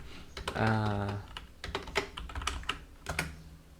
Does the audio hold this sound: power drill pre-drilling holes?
no